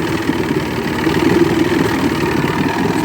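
An Evinrude Johnson 85hp V4 crossflow outboard motor idles steadily and roughly, a continuous mid-pitched engine rumble with slight uneven pulsing, close and fairly loud throughout.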